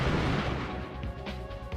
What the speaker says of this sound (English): Those explosions are gonna kill them too.